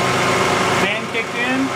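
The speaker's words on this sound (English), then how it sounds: "Oh, there goes the compressor." The AC compressor engages on a 2004 Honda Pilot engine running close by; the steady engine hum shifts abruptly partway through as the compressor clicks in, and a voice is heard briefly.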